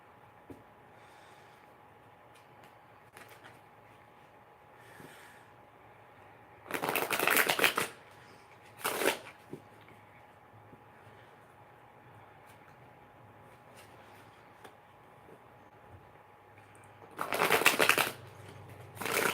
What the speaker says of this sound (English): I'm putting all the cards back and shuffling